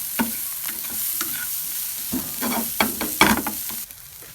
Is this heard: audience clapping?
no